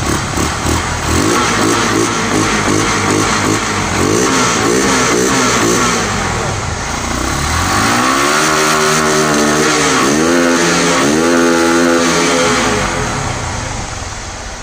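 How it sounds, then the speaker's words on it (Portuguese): Motorcycle engine running on alcohol fuel, revved repeatedly to warm up, loud and close, with rising and falling throttle sweeps over a steady idle and no talking. "Pega a moto no álcool aqui, vou tentar dar uma esquentadinha."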